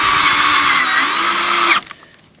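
A cordless battery drill whines loudly and steadily, its tone sagging slightly as the battery runs low, then cuts off abruptly, leaving faint handling noises.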